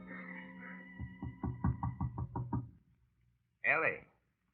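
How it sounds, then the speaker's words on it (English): A radio drama knock at a door, a rhythmic series of about eight firm raps following a brief stretch of talk, then a voice calls out after a short pause. "Her father knocks at the door."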